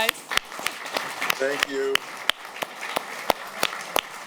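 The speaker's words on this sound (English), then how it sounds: "Give him a hand of applause, guys." Audience applause at the close of an evening talk about the opera libretto for Blue, a thin scattering of claps with sharp individual hand claps, heard under a host speaking.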